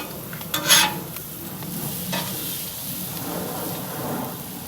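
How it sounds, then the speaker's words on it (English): Bagels are flipped on a hot Blackstone griddle, one brief clatter followed by a continuous, moderately loud toasting sizzle with no voices. "we're gonna go ahead and flip our bagels over now that the inner portion"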